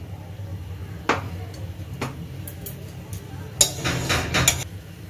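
Soaked rice tipped into a hot kadai on a village stove for dry-roasting: a couple of sharp ticks, then a short run of gritty, rattling bursts against steady low background noise.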